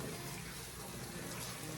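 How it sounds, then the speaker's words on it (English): Cold tap water running over freshly boiled potatoes for potato salad, a steady, even rushing splash at moderate distance, with no one speaking. "Just rinse them off with cold water."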